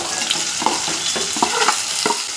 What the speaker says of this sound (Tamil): இந்த கேரட்டு உருளைக்கிழங்கு போட்டு வதக்கிக்கிடுவோம்.